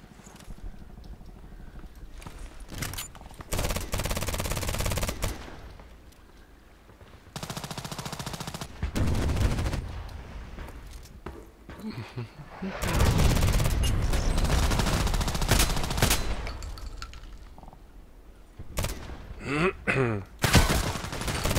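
Automatic and rapid gunfire in a deathmatch shooter game, loud bursts and fusillades coming in several clusters with short gaps between them, with no talk over it.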